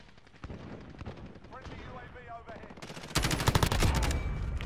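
Rapid revolver gunfire from a .357 in a video game, a dense run of sharp shots that grows louder and more continuous near the end, with a voice talking underneath.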